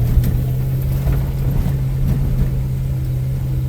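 A pickup truck engine idles in second gear with a steady low hum and throb, close and continuous, with no voices.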